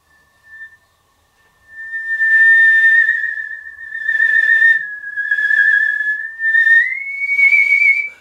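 A solo whistler carries the melody of Ave Maria, deliberately blurring and sliding between notes in long connected phrases, clear and close after a brief opening chirp.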